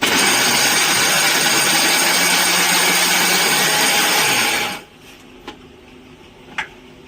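An electric kitchen grinder whirs loudly and steadily as it grinds fried puris into coarse powder for laddoos, then cuts off abruptly. A couple of faint clinks follow in the quiet.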